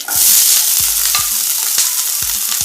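Chopped green chili and capsicum fry in hot oil for a hara bhara kabab, giving a loud, steady broadband sizzle with a few short stirring scrapes and knocks. No one speaks.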